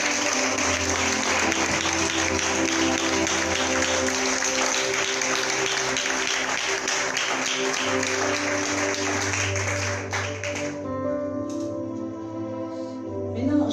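A church conference congregation claps and cheers in a large hall, dense sustained applause at a steady level for about ten seconds, then thinning out as music continues underneath.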